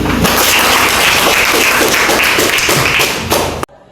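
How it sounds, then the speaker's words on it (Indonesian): A classroom of students claps together in a dense, loud, continuous burst for several seconds, with sharp taps and thuds in the mix, before the sound stops suddenly. "Berikan tepuk tangan."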